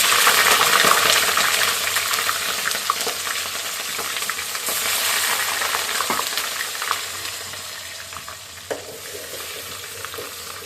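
Raw rice frying in a pan together with ginger and green chili, a steady broad sizzle that fills the whole stretch, with occasional stirring scrapes and clinks close by.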